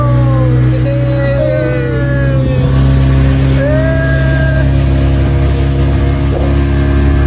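Diesel engine of a tourist boat at Ghatsila pulling away, a loud steady low drone close by, with voices chatting intermittently over it.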